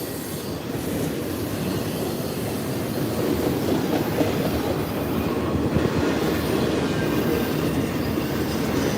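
A CSX intermodal freight train rolls past close by in a loud, continuous roar of wheels and rail, with clattering and some wheel squeal throughout and no talk.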